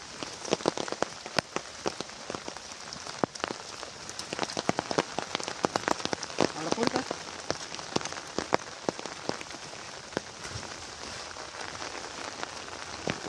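Heavy rain pours down steadily, thick with sharp pattering drops hitting nearby surfaces, dense and constant throughout with no voices.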